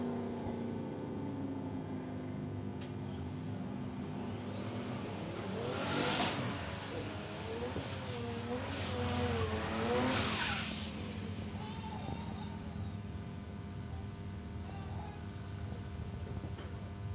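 A Ford Mustang drag car at Palmyra Raceway roars past, engine note climbing through two loud rising surges with gear changes, then fading into the distance over a steady background hum.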